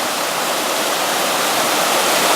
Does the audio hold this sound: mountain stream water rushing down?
yes